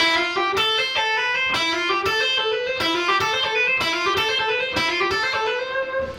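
An electric guitar plays a quick melodic lick, about a dozen picked notes in a steady, bright, slightly driven run, with no talking.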